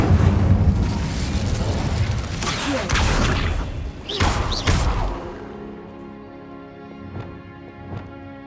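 Incendio fire spell cast in Hogwarts Legacy, a loud roaring whoosh and crackle of flame lasting several seconds, with sharp bursts, then fading to a quieter ringing tail with faint pops.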